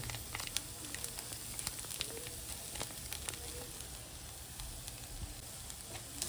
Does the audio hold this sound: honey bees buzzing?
no